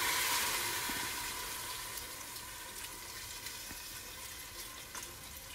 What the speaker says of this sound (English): You want to hear that nice saute.